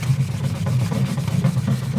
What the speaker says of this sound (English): So we're going to start by just wet sanding the surface of the lens.